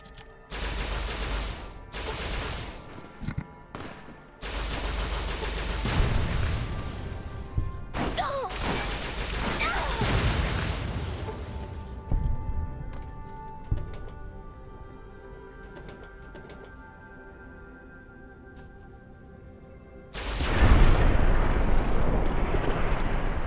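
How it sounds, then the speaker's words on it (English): Sniper rifle fire in a video game, heard as several sharp shots spread across the clip among other combat noise, with a loud burst near the end. "So Christine was poking with a sniper rifle."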